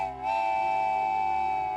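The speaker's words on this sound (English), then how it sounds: "Listen to my new whistle." A cartoon steam engine's new train whistle sounds as one long, steady, clear tone held for nearly two seconds, close and bright with a soft start.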